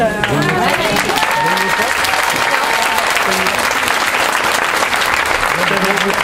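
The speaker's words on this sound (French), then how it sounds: "je voudrais plus particulièrement que vous applaudissiez Sylvie Marin." An audience applauds at a reception in Bourgoin, dense sustained clapping with some voices and cheering mixed in.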